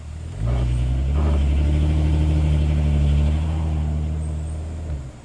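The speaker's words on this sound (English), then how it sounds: "There you go, S mode, we'll rev it up." A Volkswagen engine with a DSG gearbox, in S mode, revs up from idle into a steady, droning high-rev hold for several seconds, then drops back down near the end.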